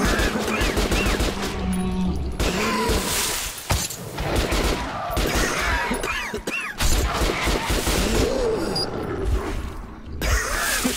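Rapid, loud gunfire from Metro Last Light fills the whole stretch as dense bursts of automatic shots with crashing impacts, dipping only briefly before the firing resumes.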